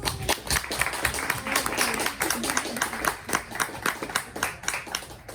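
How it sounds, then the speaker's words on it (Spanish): Scattered hand clapping at a panel discussion on aphasia, with sharp separate claps in an uneven rhythm and some voices under them. "un aplauso para nuestros panelistas"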